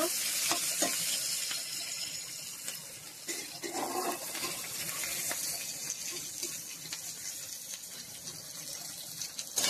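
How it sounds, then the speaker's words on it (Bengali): Onion frying in oil in a pan while cooking a Bengali kochu loti dish, giving a steady, faint sizzle with soft stirring scrapes throughout and no talking. "পেঁয়াজটা এবার ভেজে নেব।"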